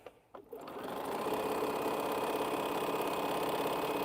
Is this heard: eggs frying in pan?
no